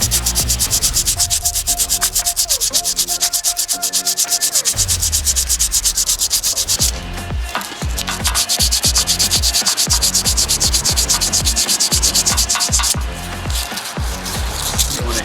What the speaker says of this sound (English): Get all that little fine dust and grit off of it.